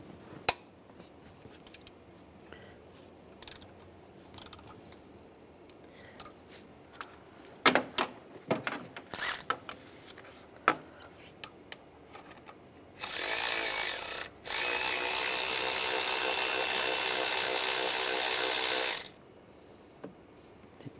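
A ratchet works on the accessory belt tensioner bolt of a 2006-2009 Mercedes E350, sparse sharp clicks and clacks scattered through the first half, followed by a long, loud burst of steady mechanical whirring.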